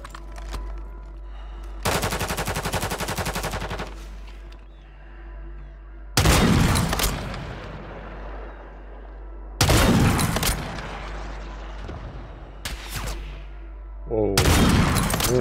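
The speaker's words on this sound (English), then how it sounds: "Little sniper that's from right there." Sniper rifle fire in a shooter video game comes as several loud, sharp bursts spaced a few seconds apart, each trailing off into a fading echo.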